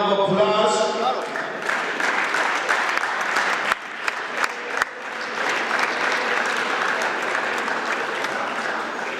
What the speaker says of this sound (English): Once again, please give them another round of applause.